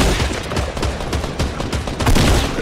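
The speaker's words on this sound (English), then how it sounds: "Oh, Logan shooting" Fortnite gunfire: a dense, loud fusillade of rapid overlapping shots that continues the whole time and has no clear gaps between the reports.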